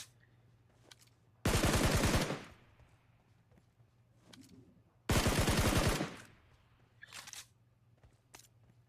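Two loud bursts of automatic gunfire from a mobile shooter game rattle out a few seconds apart, with faint single shots and clicks scattered between them over a quiet background.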